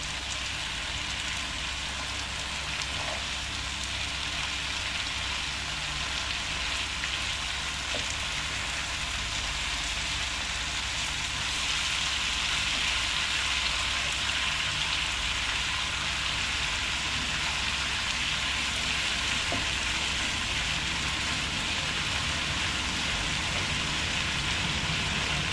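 Bitter gourd (ampalaya) stir-frying in an open, uncovered pan, giving a steady, dense sizzle and crackle that hisses evenly throughout without pause.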